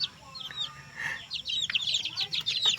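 Silkie cross Cobra chicken clucking close by, a run of quick soft clucks and chirpy notes in an irregular rhythm, faint and alone for a few seconds.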